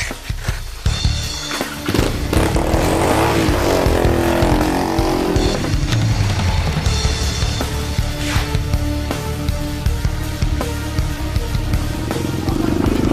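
Motorcycle chase in an Indonesian FTV drama, engines roaring and revving continuously and loud throughout, with a dense mix of other noise and no clear speech.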